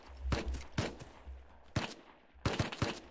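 Gunshots from the video game Rust crack out in short clustered bursts, several sharp shots spaced irregularly over a few seconds, fairly close and loud against a quiet background.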